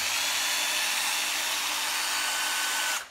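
Secondhand Japanese cordless drill, an older model, running continuously with an even high-pitched whine close by, then cutting off sharply at the end.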